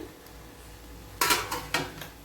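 Dried fish rice is stirred in a metal pot, giving three sharp scraping clanks of a ladle against the pot after a quiet stretch, close and distinct.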